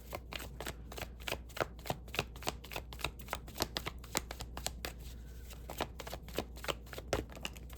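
Tarot cards being shuffled in rapid, crisp riffling snaps, a dense run of sharp card flicks close to the microphone with brief pauses, alone without talk.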